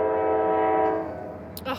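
A train passes nearby with a loud sustained horn blast that fades out, followed by brief rattling and a short voice at the end.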